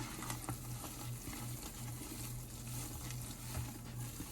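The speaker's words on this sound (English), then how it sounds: "Probably because you've got citric acid in there and you just added baking soda to it" Baking soda sprinkled into a citric acid mixture fizzes and crackles in a soft, steady patter, with faint bubbling pops spread across the moment and no talking.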